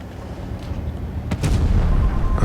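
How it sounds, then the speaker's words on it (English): Tank cannon firing in World of Tanks Blitz during an IS-4 battle, a single sharp boom with a rumbling tail over low game engine noise. "I missed my shot to 5B."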